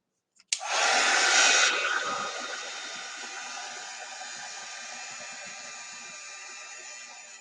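Hair dryer switched on to dry chalk couture craft leaves, a loud rushing blast that starts abruptly and then settles into a steady airy whir, with no talking over it.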